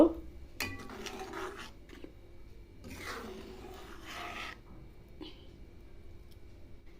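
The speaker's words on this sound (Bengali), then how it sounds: "জিরে গুঁড়ো, চিনি, ধনেপাতা কুচি দিয়ে দিব। ভালো করে মিশিয়ে নিব।" A spoon scrapes and rubs around a pot while cumin powder, sugar and chopped coriander are stirred into moong dal, in irregular close scraping strokes with light clinks and a voice talking at times.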